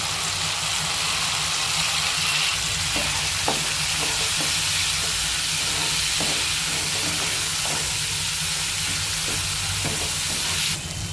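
Pabda fish fries in a pan with mustard and turmeric powder, giving a loud, continuous close sizzle with faint stirring scrapes and clinks throughout.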